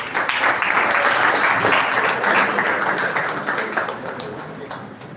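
An audience at a college event in Pune claps in sustained applause, dense and loud at first, then gradually thinning and fading toward the end.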